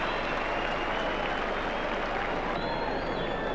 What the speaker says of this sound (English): the crowd has gone absolutely berserk as they welcome Geoff Toovey back